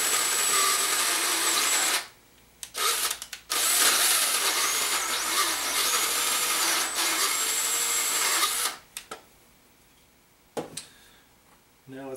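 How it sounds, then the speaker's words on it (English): A power drill bores a hole with a 9/16 inch bit into a workpiece during a grinder slider build, running loud and steady in long bursts with brief stops, then trailing off into quieter pauses and a short final burst. "We'll go ahead and drill that deep."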